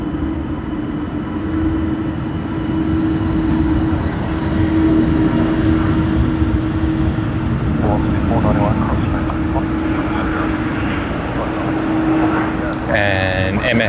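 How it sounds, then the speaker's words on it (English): An Airbus A380 departs Sydney Airport with a constant engine drone and steady low hum that stays level throughout, while voices talk intermittently over it. "Another A380 departure over here on our channel."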